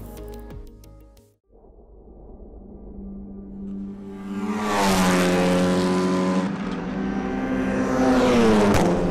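Honda Civic Type R TCR race car engine, a loud rising buzz that climbs through the revs and swells as the car draws near, with the pitch shifting on gear changes and staying strong to the end.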